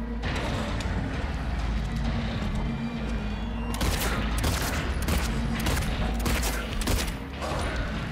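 Gunshots in Silent Hill 2 over constant low droning ambience, with a few sharp reports, denser and louder after about four seconds.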